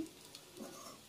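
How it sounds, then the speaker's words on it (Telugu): Peanut powder being stirred into sabudana khichdi in a pan, with a soft, steady scraping and faint sizzle running quietly throughout. "మొత్తం అంతా పట్టేలా బాగా కలుపుకోవాలి."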